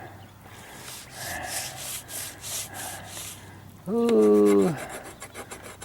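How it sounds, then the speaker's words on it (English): A brush scrubs with quick rhythmic rasping strokes, likely on the metal of a high banker used for gold prospecting, close to the microphone; midway a voice gives a short drawn-out exclamation over the rubbing. "Scrub harder. Scrub, scrub, scrub."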